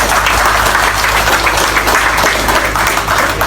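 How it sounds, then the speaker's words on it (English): An audience gives steady applause at an event at the Mt. Coffee Hydropower Plant in Liberia, dense continuous clapping, loud and close, over a low background hum. "So please clap for our creme de la creme."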